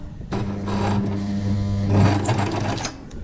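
A sewing machine runs a short reverse stitch, a steady close mechanical whir with a rhythmic needle hum, its pitch shifting slightly midway before easing off.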